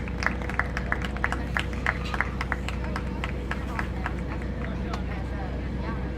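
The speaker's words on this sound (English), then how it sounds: "Give these kids a good round of applause" Scattered clapping from spectators in a livestock show arena for the young exhibitors, sharp individual claps over a constant low hum and crowd murmur, fairly distant and thin.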